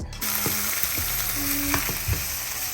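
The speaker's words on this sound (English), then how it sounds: "So now that this is sizzling, right? You don't want it to sizzle too much, because then you take away from the flavor of the onion." Onions sizzling in a pan, a steady bright frying hiss throughout with occasional clicks and knocks of a utensil, close and continuous with no talking.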